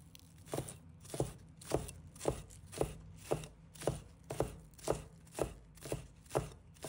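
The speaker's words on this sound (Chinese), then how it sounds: "再准备几个小葱，把它切成葱花。" A knife chops green onions on a cutting board, about a dozen steady, evenly spaced thuds close by, with no voices.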